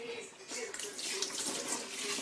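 Hands are washed under running water in a kitchen during dum biryani cooking, a close, continuous tap flow with splashing bursts, with a voice faintly present.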